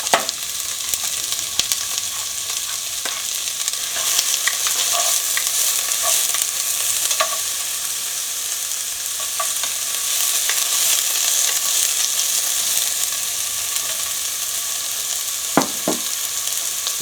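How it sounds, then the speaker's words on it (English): Onions and vegetables sauté steadily in a cast iron pan, a continuous bright sizzle with occasional clicks of stirring utensils against the iron, close and even throughout. "We're going to saute the vegetables to start with. So in go the onions."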